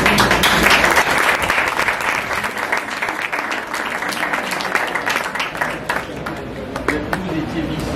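Loud, dense applause from a crowd at a baccalaureate medal ceremony filling the whole stretch, hands clapping continuously and close, slowly easing slightly toward the end.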